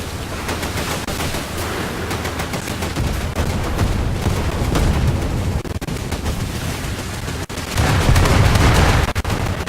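Naval gunfire in the War Thunder video game, 40mm and 20mm guns firing at a small sub-chaser, a dense, loud, continuous rattle of rapid shots with booming bursts, swelling louder toward the end.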